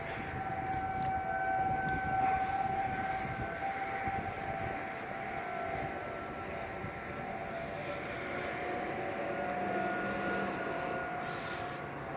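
Outdoor warning sirens in Austin, including 2001 models, sound in a monthly test as a sustained distant wail over steady outdoor rumble, a faint tone holding throughout.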